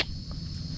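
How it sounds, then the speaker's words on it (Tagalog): Steady high insect trill of crickets, continuous and faint, over a low rumbling background hum. "Kuliglig, yung huni ng ibon,"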